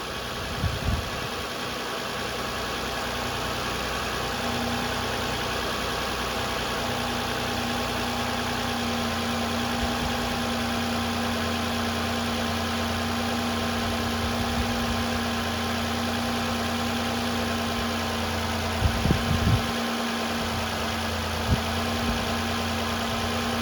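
Car engine idling steadily for a long stretch, a constant low hum with a faint vibration, close and alone, with a few soft clicks and taps near the start and end.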